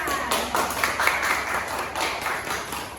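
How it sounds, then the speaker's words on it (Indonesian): Elementary school pupils clap together in a classroom, giving a loose, moderately loud burst of uneven claps that keeps going steadily. "Semuanya tepuk tangan."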